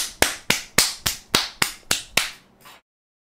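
Eight sharp, evenly spaced hand claps in a slow steady rhythm, loud and close, the last one softer, followed by silence.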